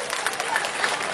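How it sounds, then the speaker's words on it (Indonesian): Outdoor crowd applauding at Muara Badak Festival 2019, a steady dense wash of clapping throughout this short stretch with no distinct voices. "Tepuk tangan buat kita semuanya."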